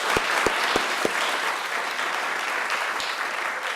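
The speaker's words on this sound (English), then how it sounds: "Let's get a round of applause." Steady applause from a crowd at a Pride brunch in Cambridge, dense continuous clapping with a few louder, isolated claps standing out near the start.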